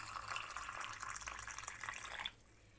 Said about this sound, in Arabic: والآن سوف أقوم بإضافة مقدار كوب من الماء على هذه المكونات